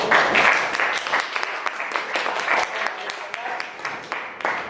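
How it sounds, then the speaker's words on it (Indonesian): A classroom group applauds after a presentation, with close, distinct hand claps forming an uneven rhythm over a few seconds as voices murmur underneath. "tepuk tangan untuk kelompok 1"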